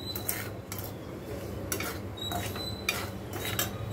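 A spatula scrapes and stirs semolina roasting in a metal pan in repeated short strokes, with a low steady background hum throughout.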